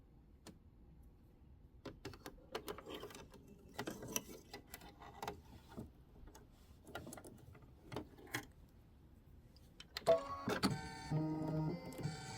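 An embroidery machine threaded with white stitches the placement line for two small Mylar stars on a Kimberbell March mini quilt, giving a steady run of quick mechanical ticks and clicks that swell into a louder whirring burst near the end.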